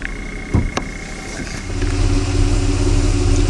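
A Chrysler 2.7 L engine idles nearby in a steady, even hum that grows slightly fuller partway through. A couple of brief clicks sound near the start.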